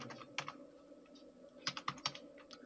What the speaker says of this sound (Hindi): यहाँ पर आपको रोल नंबर टाइप करना है